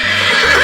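A horse gives a short, loud whinny with a rising, wavering tone, close and alone, within a children's learning lesson about animals.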